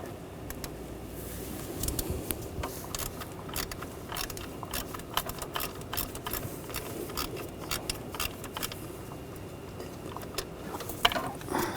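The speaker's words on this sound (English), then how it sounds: "You need to take the bolt out from down below. Use a 13mm socket." A ratchet fitted with a 13mm socket works a bolt loose on a 2013-2019 Ford Escape 2.0L four-cylinder during valve cover removal, giving close, uneven bursts of sharp clicking over a low background.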